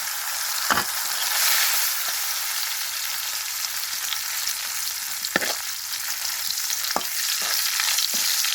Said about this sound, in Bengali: এখন শুটকি দিয়ে দিব শুটকি ভাজি করে নেব